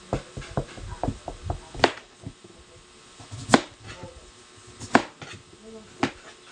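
A knife chopping peeled chayote (sayote) on a board: irregular sharp taps and a few louder thwacks, close and fairly quiet, alone without talk.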